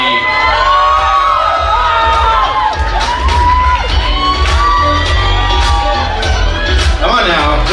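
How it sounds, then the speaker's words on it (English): Wedding reception guests cheering and whooping loudly for the groom's sister, a dense crowd roar with shouts and yells, a voice calling out over the noise and some clapping beneath. "Round of applause for Tanmay."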